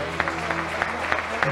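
A church congregation applauds during an evening worship service, a steady wash of many hands with a few sharper rhythmic claps standing out, moderately loud over a sustained musical tone.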